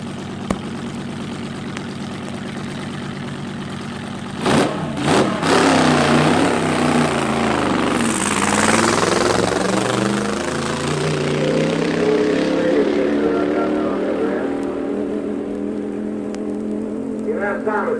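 A 1963 drag strip car accelerating, running in high gear only. A steady engine hum swells into a loud, rising roar and then fades away as the car passes. Crowd or announcer noise runs underneath.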